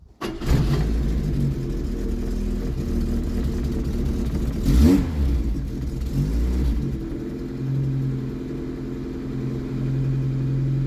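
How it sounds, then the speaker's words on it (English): A 1989 Opel Corsa carburetor engine cranks and catches with the choke out, then settles into a rough, rumbling run with a couple of revs swelling in the middle; the exhaust sounds leaky and throaty, close and alone. "I do believe the exhaust leaks because well, it really has a rothy sound to it."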